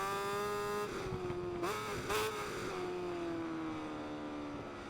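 A race car's engine drones steadily on a circuit, its pitch dipping and rising through corners and braking, with a long sustained whine that slowly falls toward the end; loud, close and without talk.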